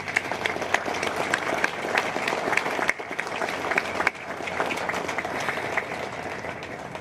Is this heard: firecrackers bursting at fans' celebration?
no